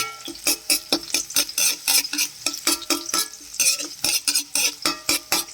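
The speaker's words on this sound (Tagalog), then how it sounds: "Sunod na rin natin yung bawang. Haluin natin hanggang siya ay maging golden boy." Garlic frying in a pan is stirred with a utensil in a steady run of scraping strokes and soft sizzle, close and fairly loud, with no voices.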